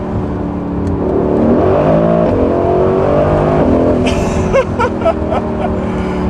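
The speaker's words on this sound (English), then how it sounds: "I'm gonna go and do that downshift." A 2021 Mercedes-AMG GT Roadster's engine roars steadily in Sport Plus mode, then blips sharply several times as the revs jump during a paddle downshift, loud and close throughout.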